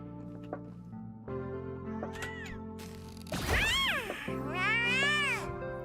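A cat in the video game Honkai: Star Rail meows repeatedly over looping game music, with louder, drawn-out meows clustered near the end.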